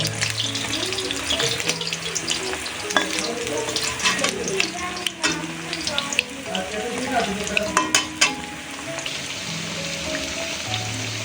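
Centella leaf pakoras fry in hot oil over medium heat, a continuous crackling sizzle with scattered clinks and scrapes as pieces are turned, while a voice speaks over the cooking.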